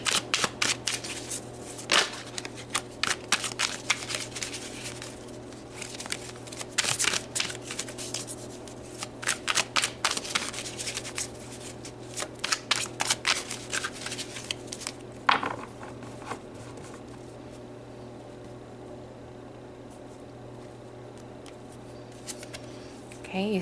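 A tarot deck is shuffled by hand in repeated bursts of crisp riffling card flutter, close and clear, with brief pauses between passes and no voices.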